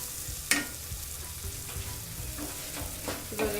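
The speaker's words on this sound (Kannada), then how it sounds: "ಈಗ ನಾನು ಇದಕ್ಕೆ ಹೀರೆಕಾಯಿ ಆ್ಯಡ್ ಮಾಡ್ತೀನಿ" Chopped ridge gourd tips into a frying pan, a sharp clatter followed by a steady soft sizzle with occasional light scrapes and taps, close and moderately quiet.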